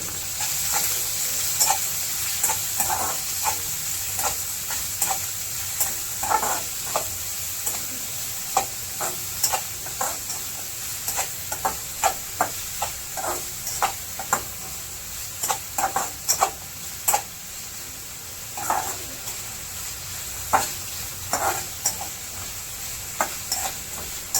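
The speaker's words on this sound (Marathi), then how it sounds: "कांदाही व्यवस्थित ला थोडासा लाल होईपर्यंत जास्तसुद्धा नाही पण थोडासा लाल होईपर्यंत आपण त्याला परतवून घेणार आहोत" Chopped onion sautés in hot oil for a tempering, a continuous close sizzle broken by frequent sharp scrapes and clinks of a spoon stirring in the pan over about twenty-four seconds.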